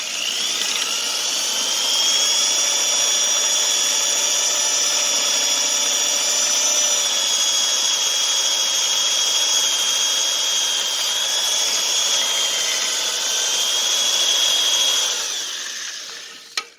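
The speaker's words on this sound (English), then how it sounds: "I'm currently drilling a hole right here, try and let the water out" A handheld power drill whines steadily and loudly as it bores a hole to drain water from a Gravely Super walk-behind mower, one long sustained run that winds down at the end.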